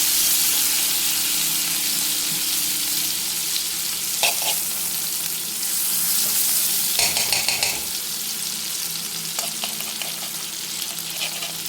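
Butter melts in a frying pan with a steady, close, bright sizzle, and a few scattered clinks and scrapes come near the middle and the end, without any speech.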